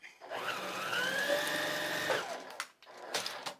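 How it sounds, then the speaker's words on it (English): A sewing machine stitches paper-pieced quilt fabric in one steady, fairly close whirring run of about two seconds, followed by a few soft clicks and handling noises. "I'm going to put this back in the machine. I'm going to open this and I'm going to sew it."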